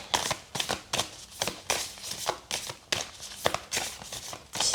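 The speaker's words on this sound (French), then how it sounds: "J'ai bien battu les cartes pourtant." Tarot cards being shuffled by hand, with rapid rhythmic riffling bursts and soft slaps repeating roughly every half second, close and crisp, with no talking.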